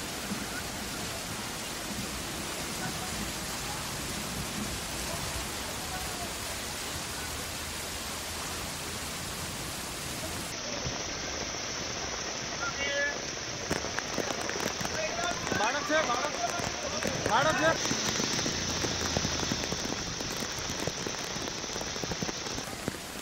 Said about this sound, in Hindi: ऐसा लग रहा है जैसे कोई झरना बह रहा हो, नदी बह रही हो, लेकिन ये सड़क पर पानी बह रहा है।